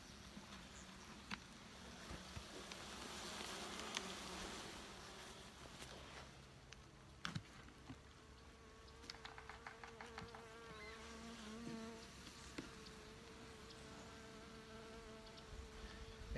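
Honey bees buzz steadily across open hive frames, a dense, close, continuous drone broken by a few light knocks and handling noises. No one talks.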